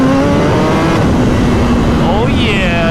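A 2022 Suzuki Hayabusa motorcycle, fitted with a new mod, accelerates hard on city streets. Its loud, close engine roar stays sustained and climbs in pitch, with a rising whine near the end.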